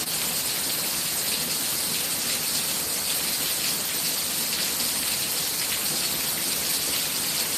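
Torrential thunderstorm downpour, heavy rain roaring in a dense, unbroken hiss of drops hitting surfaces, loud and constant throughout with no voices.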